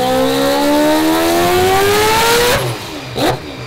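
A 1000hp billet four-rotor Mazda RX-7 engine revs hard with a loud, rising, continuous howl, then drops off abruptly and snaps back in a short blip near the end.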